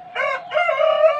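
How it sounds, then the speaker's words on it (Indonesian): A village chicken suffering from a respiratory snore gives a short, strained call in two close bursts, raspy yet harmonic, heard near and alone against a quiet background. "Ini di sini aku ada ayam kampung yang lagi ngorok."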